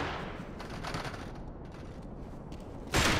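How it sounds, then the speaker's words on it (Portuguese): Gunfire in a Max Payne 3 shootout between gang factions, a steady crackle of distant shots and bursts at moderate loudness, capped by a louder sharp blast just before the end. "Atirem pra matar!"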